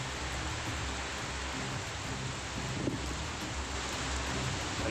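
Steady rain falls with an even, hissing wash, constant and moderately loud throughout, with no voices.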